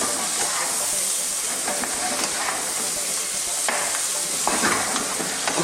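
Whole okra and a little tomato sizzle in a frying pan with softened onions, a loud steady hiss and crackle with brief sharper spits.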